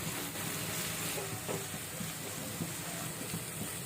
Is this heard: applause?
no